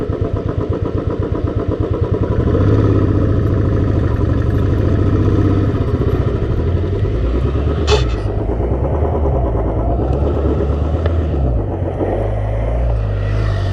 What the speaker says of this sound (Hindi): ये अपनी थार चढ़ नहीं रही ऊपर बिल्कुल भी, ये देखो इसकी क्लच प्लेट गई